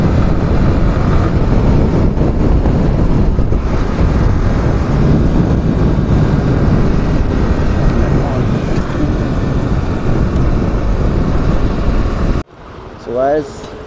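Yamaha R15 v4 motorcycle accelerating on the road, a loud sustained engine drone mixed with heavy wind rush that cuts off abruptly near the end, followed by brief talk.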